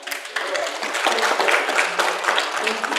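A church congregation applauds during Sunday service, a dense, continuous wash of many hands clapping at steady loudness throughout.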